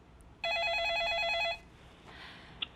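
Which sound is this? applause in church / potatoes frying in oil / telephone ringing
telephone ringing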